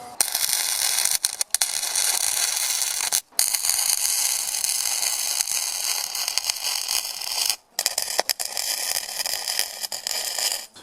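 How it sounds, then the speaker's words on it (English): Tack welding on a door hinge bracket of a Chevy Blazer: a steady, loud, buzzing crackle of welding runs throughout, broken by two brief pauses between tacks. No voices. "Try a couple other tacks here, and I'm going to tack along this edge and see if we can't get a better weld onto here."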